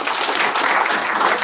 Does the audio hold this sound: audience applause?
yes